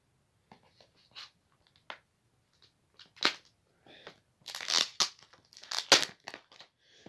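A blade cuts into the plastic packaging of a 4K HMV steelbook, quiet scattered scratches and rips building into louder crinkling tears near the end, heard close up.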